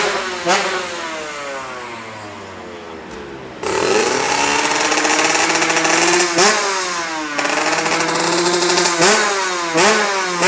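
Motorcycle engine at a 1000 m race circuit, revving repeatedly with rising and falling pitch sweeps, loud and close, with a brief lull before the throttle opens hard again.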